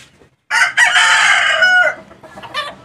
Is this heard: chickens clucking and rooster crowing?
yes